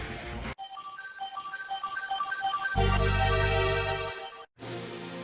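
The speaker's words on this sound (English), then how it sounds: "Do you hear that fanfare?" Video game victory fanfare plays alone as a bright, tinkling melodic run, swelling into a fuller sustained chord before cutting off, then resuming briefly.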